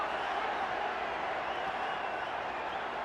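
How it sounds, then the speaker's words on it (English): A stadium boxing crowd at a WBC super welterweight title fight cheers and applauds in a steady, distant roar that runs unbroken throughout. "And listen to the response of the crowd. They are just loving it."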